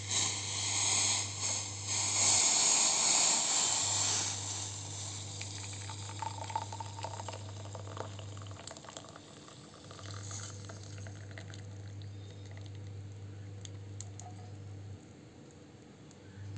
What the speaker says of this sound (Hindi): देखिए दोस्तों मैंने काढ़े को छान लिया है